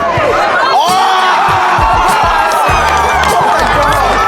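Crowd at an AFL football stadium cheering and shouting, a dense roar of voices with whoops rising over steady noise throughout.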